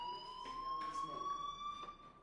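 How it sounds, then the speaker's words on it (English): A fire alarm rings in the video game Life is Strange, sounding as a steady high electronic tone with harmonics, faint and continuous behind soft talking. "do you hear that fire alarm?"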